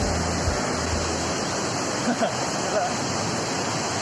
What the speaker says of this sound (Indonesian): Suara air terjun yang jatuh membentur dasar darat terdengar begitu kencang dan berisik